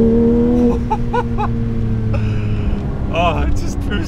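A 2022 Porsche 992 GT3 Touring with a manual gearbox drives along, its engine droning loudly and then easing off at a gear change, heard from inside the cabin while someone talks over it.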